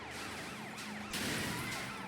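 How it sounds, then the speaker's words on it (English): Wailing police sirens in the video game Sleeping Dogs sweep up and down continuously, loud and close, with a denser burst of traffic noise joining partway through and no talk. "maybe hide in a house when you hear the sirens coming"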